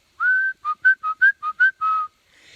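Someone whistles a short run of about eight clear notes, a long opening note and a long closing one framing quick chirps. It is close and alone.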